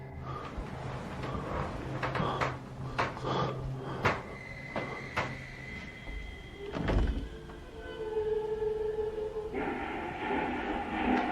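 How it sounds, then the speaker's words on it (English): Closet door rattling in a dark room at night, a series of knocks, thumps and clatters with a sliding, scraping thud partway through, fairly quiet, followed by some tonal humming sounds. "After waking to a closet door rattling and lights flickering"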